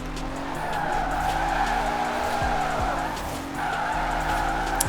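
A Ferrari Enzo drifting in Forza Horizon 4, its engine droning as the tires squeal and skid continuously for several seconds, loud and close, with brief engine pitch sweeps in the middle.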